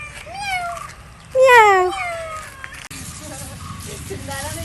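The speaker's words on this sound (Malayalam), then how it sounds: "പൂച്ചയും കുട്ടി വന്നിക്കണ്" A cat meows several times, one loud drawn-out cry in the middle, with faint household background noise and no talking.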